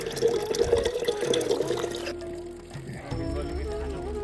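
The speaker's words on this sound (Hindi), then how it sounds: "यहाँ से पानी भर रहे हैं हम लोग फटाफट" Water is being filled from a cold mountain spring along a trail to Rudranath temple, a steady splashing, pouring flow that runs continuously and close by, with a brief shift partway through.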